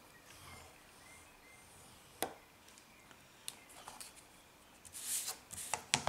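Folds are creased into a paper card for a three-diamond card project: faint, quiet scraping and crisp clicks that are sparse at first, then a cluster of rustling strokes toward the end, with no voices.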